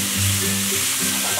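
Chorizo and chicken sizzle and fry steadily in a hot pan, a close, continuous crackle with faint stirring.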